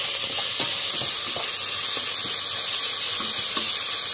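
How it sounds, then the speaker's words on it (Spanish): Shrimp heads and shells frying in oil in a pan alongside bread, a steady loud sizzle and hiss with faint crackles throughout. "he puesto donde vamos a hacer los chipirones, un poquito de aceite y el pan, para que se toste también"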